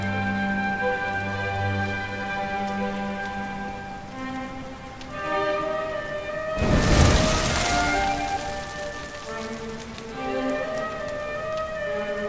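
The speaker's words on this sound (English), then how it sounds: "Looks like the rain's dying down." Rain in the video game Dragon Quest 11 makes a steady soft patter beneath sustained game music tones, with a brief louder rushing surge about midway.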